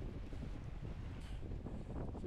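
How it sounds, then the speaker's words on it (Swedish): Steady, broadband wind rush of about 10-11 metres per second buffeting the microphone, with a low rumble, constant and fairly loud throughout, no voices. "Vinden har ökat lite grann."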